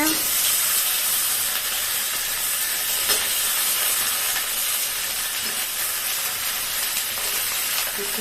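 Okra and potato pieces are added to hot oil in a home kitchen and sizzle steadily, a loud, continuous frying hiss that holds from start to finish.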